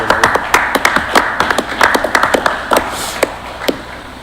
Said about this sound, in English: I think they need a round of applause too.